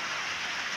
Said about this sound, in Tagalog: Inabot na po ako ng ulan dito sa labas.